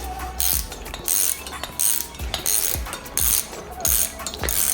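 Nylon locking nut being wound down with a 17mm wrench on a WRX coilover: repeated ratcheting clicks in short bursts, close and fairly loud, with metallic clinks between strokes.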